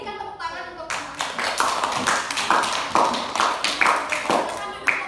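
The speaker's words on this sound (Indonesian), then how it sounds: "Coba berikan tepuk tangan untuk teman-teman." A classroom of students applauding their classmates after a group presentation: a burst of close, brisk hand clapping that starts abruptly after a short spoken phrase and continues steadily with uneven, overlapping claps.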